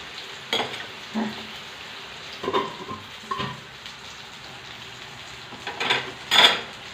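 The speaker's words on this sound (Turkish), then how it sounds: "Kızarmaya başladı patatesiniz." Potatoes frying in hot oil on a fast stovetop give a steady hiss and crackle, broken by a few sharper clinks and scrapes of a pan or utensil, the loudest burst near the end.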